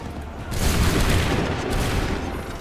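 Musket volley gunfire in the Assassin's Creed III video game, a loud, dense burst of many shots together that rolls into a sustained rumbling roar and slowly tails off.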